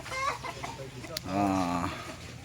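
Chickens cluck nearby on a farm in short bursts, with a person talking over the birds.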